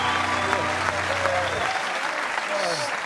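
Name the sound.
audience applause and clapping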